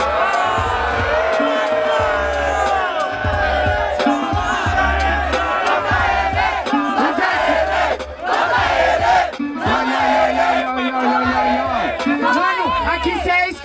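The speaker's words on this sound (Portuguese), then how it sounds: "Que plateia é essa, mano? Ela só grita pra vocês." A rap battle audience at a BDA event yells and screams loudly and continuously, with crowd noise swelling and dipping over music and voices throughout.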